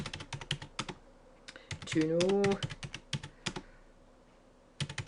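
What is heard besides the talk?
typing on a computer keyboard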